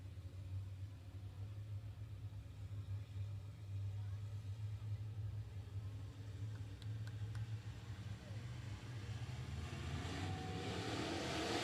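Dirt track race cars at Hunt County Raceway lining up for a heat race, a low steady engine rumble heard from a distance that swells louder near the end, with an announcer talking over it.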